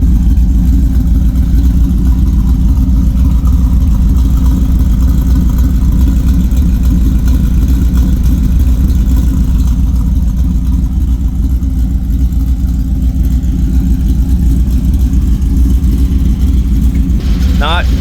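Ford Lightning pickup with a new exhaust at hot idle, a loud steady low engine rumble throbbing evenly throughout, with a brief squeak near the end.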